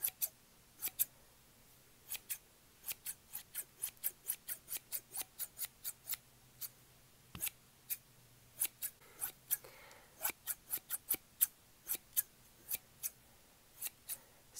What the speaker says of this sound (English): bigger, more industrial scissors.